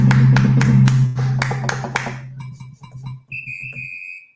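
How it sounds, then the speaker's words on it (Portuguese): A small group claps for a speaker on a social-rights program, about a dozen sharp claps in quick rhythm for two seconds before trailing off over a low hum and a thin whistling tone. "Palmas para a Andréa."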